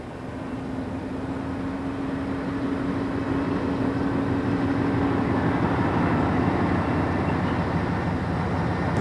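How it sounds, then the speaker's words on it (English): A Class 58 diesel locomotive hauls a coal train in a continuous low rumble and drone that slowly grows louder as it approaches, alone with no talk. "This coal train behind Class 58 number 58030 is seen heading south towards Coventry."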